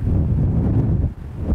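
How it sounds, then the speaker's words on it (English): Strong wind buffets the microphone outdoors in southwestern Oklahoma on a rainy hunting morning, a steady low rumbling roar that dips briefly near the end before surging back. "As you can tell, it's very windy."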